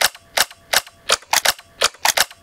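Metallic clicks with a springy snap from the mechanism of a Denix MP40 replica, repeating in a quick, fairly regular rhythm of about nine dry, close, loud cycles with no talking.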